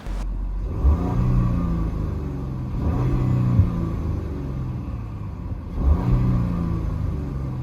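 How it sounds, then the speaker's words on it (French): Volkswagen Touareg R with a V6 hybrid powertrain rated at 462 hp revs three times, each a muted, rumbling rise and fall of engine and exhaust, close and without talk. "une mélodie feutrée, forcément, je ne m'attendais pas forcément à une grosse sonorité, à un gros sound exhaust de l'échappement de la part de ce Touareg"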